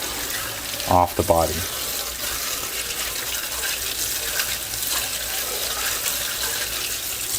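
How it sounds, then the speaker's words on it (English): Tap water runs over an RC car body to rinse soap away before painting, a steady hiss of flowing water that continues throughout, with a voice speaking briefly near the start. "I'm gonna go ahead and release the water here and give it a good rinsing"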